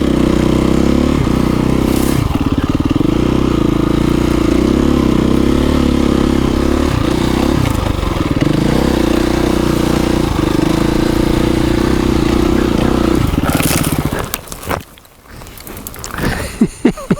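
A KTM 350 motorcycle engine runs loud and close at a steady low throttle in the desert, with a rumbling chug that holds for many seconds before dropping away into rattles and clatter.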